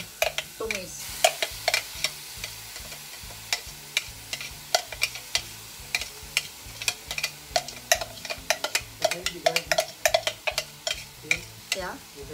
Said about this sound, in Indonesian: Tadi bumbu yang tadi yang sudah saya blender, saya akan tumis.